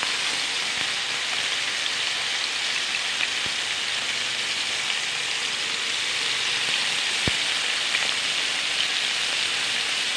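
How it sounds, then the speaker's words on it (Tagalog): Marinated pork tapa frying in hot oil, a steady dense sizzle like rain that keeps an even loudness throughout, with a couple of faint clicks and no talking. "Pag mainit na ang mantika, ilagay lang isa-isa ang marinated na pork."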